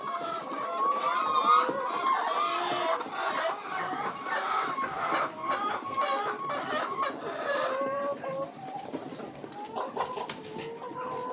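Laying hens on a poultry farm cluck and chatter continuously at moderate distance, a dense overlapping chorus with an occasional rooster-like call and no talking.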